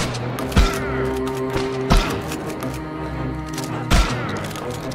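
Shotgun blasts in the video game Potentia: three or four loud, sharp booms spaced about a second or two apart over a humming game background, no talking.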